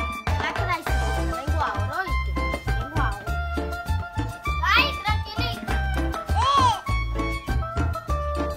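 Children play and shout somewhere in a house, their high voices rising and falling over a loud musical score while adults talk.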